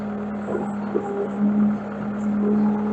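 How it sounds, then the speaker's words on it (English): Bobcat skid-steer loader, a 753 or S130, idling steadily at low throttle as its bucket lowers to the ground, with a constant engine hum and a slight swell of hydraulic strain midway, close and alone. "I'm going to lower the bucket all the way down to the ground"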